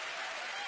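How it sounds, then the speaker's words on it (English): Audience applause on a magic competition TV show, a dense steady wash of clapping from a studio crowd, loud and continuous for a brief moment. "Let's give her a big round of applause."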